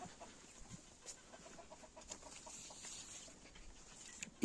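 Young turkey chicks call in a faint, scattered series of thin peeps and chirps against quiet background noise, with a louder call right at the end.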